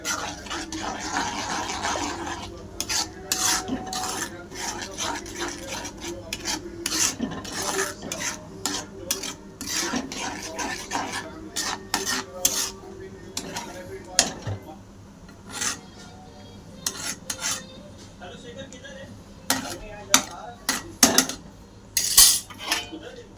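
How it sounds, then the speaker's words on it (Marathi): Everest fish masala, salt and spices are sautéed in a pan for a fish curry, heard as dense, rapid scraping and clinking of a spatula against the metal pan, close and continuous, with a faint frying hiss and no talk. "चवीनुसार मीठ मसाले पण चांगले परतून घेते"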